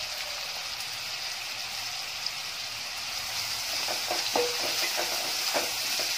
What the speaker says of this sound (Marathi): हा कांदा गोल्डन ब्राऊन कलर होईपर्यंत परतून घ्यायचा आहे.